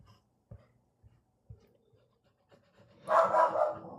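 A puppy dog pants in short, quiet breathy bursts spaced about half a second apart, followed by a louder, rougher burst of panting near the end, heard close up with no talking.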